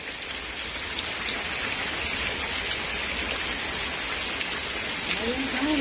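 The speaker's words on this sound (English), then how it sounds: "That's a heavy rain." Heavy summer rain pours down outside a house: a steady, dense, close hiss of drops hitting surfaces that never lets up.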